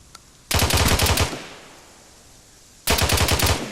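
Rapid automatic gunfire from the video game Arma 3 comes in two loud bursts, each lasting under a second, with a fading echo tail between them.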